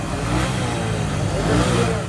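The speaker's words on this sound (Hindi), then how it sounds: "ये मोटरसाइकिल है भाई।" A motorcycle engine revs steadily and loudly at a Kamar Mushani motorcycle market, with people talking over a busy crowd in the background.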